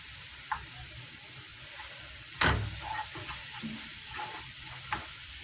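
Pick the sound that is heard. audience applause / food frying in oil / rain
food frying in oil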